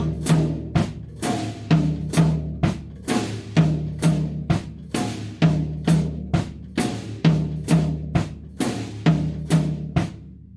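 Drum kit playing a Ghana groove with the bass drum added, a steady repeating pattern of sharp hits and deep kicks over about ten seconds, close and loud with no talking.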